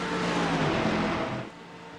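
Race car on the Nürburgring Nordschleife during 24-hour race testing, taking a turn: a loud engine roar that drops off sharply near the end, heard from the car, no voices.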